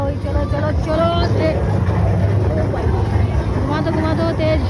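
A vehicle engine idles and warms up after starting, a steady, loud, close rumble with a low throb that holds throughout, while people talk over it.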